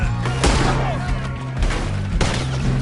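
Gunfire in Red Dead Redemption 2, with several sharp loud shots over a low steady game music bed and some voices in the background.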